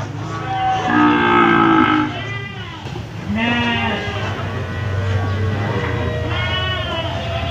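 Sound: Simmental cattle mooing at a livestock market

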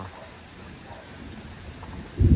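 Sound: thunder and rain starting

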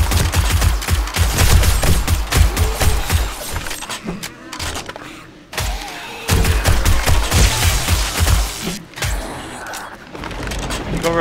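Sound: gunfire in the video game 7 Days to Die

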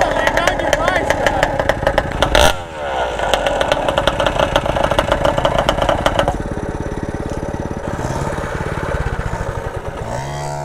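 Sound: modified XTZ 180 motorcycle with Titan engine running

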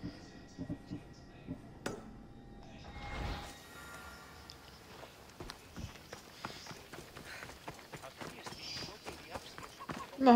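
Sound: horse galloping in a video game

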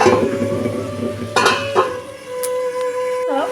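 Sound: stirring curry in a cooking pan

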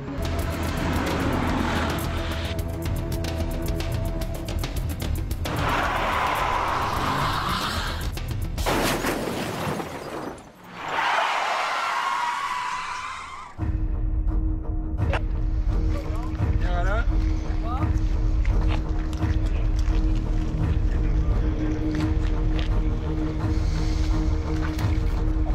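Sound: stunt car arriving at 110 km/h toward stopped cars

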